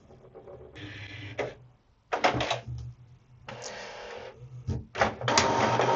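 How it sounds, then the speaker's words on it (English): An HP Envy 6120e inkjet printer scanning and copying a document, with bursts of mechanical whirring and motor runs broken by clicks and brief pauses, close and clear. "It's scanning again."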